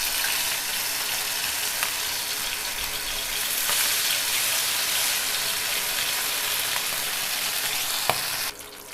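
Fish fries in hot oil in a pan, giving a loud, continuous sizzle that holds steady, with a couple of faint clinks before it drops off at the very end.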